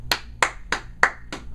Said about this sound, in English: I applaud you